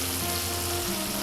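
Chopped ginger sizzles steadily in oil in a frying pan, a dense, close, continuous crackling hiss with no voices.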